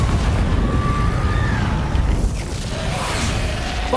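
A Confringo spell blast in Hogwarts Legacy rolls out as a loud, dense booming rumble with a burst of crackling debris, fading slightly toward the end.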